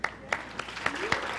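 A small audience at a cultural competence talk claps in brief, sparse fashion, a few distinct claps at regular intervals over a dense background of hands.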